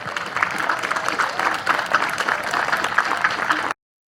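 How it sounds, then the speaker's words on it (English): Steady applause from a crowd, many hands clapping continuously for several seconds before it cuts off abruptly. "Let's have a round of applause for the Jazzercise team"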